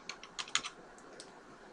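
Brief burst of typing on a computer keyboard while a price is entered into a form: a handful of quick, light key clicks clustered early, then a couple of isolated taps, faint and close with no talking.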